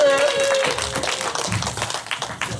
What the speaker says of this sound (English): You need to give you a big round of applause.